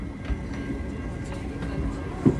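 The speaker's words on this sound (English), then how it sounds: "That train's pulling in here to Redwood City Station 3 minutes late to make its scheduled stop." A Caltrain passenger train pulls into Redwood City station, with a steady rumble of rolling wheels and a few rail clanks nearby, partly under a voice talking.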